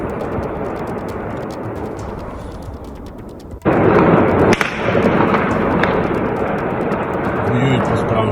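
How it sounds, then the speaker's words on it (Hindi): Gunfire and explosions in the Ukraine war: a sudden loud blast cuts through continuous rumbling noise and is followed by sharp cracks, with a voice talking over it. "इन आवाजों को सुनिए। यहाँ पर जो लोग दहशत में रहने को मजबूर हैं, वो इन्हीं फायरिंग और धमाकों के बीच रह रहे हैं।"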